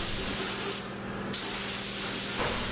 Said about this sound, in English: I've sprayed two coats of the flat clear.